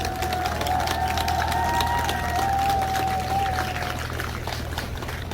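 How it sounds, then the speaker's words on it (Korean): An outdoor crowd at a presidential election rally in Gwangju gives a steady wash of applause and cheering, with a sustained tonal whine running through the first few seconds and a low constant hum beneath. "뜨거운 박수 부탁합니다."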